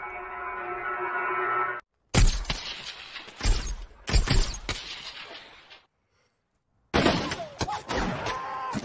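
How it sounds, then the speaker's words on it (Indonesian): A film firefight between American soldiers and Taliban fighters erupts in loud, echoing bursts of gunfire and cracking impacts, several sharp volleys separated by a stretch of near silence. "baku tembak pun gak bisa dihindari"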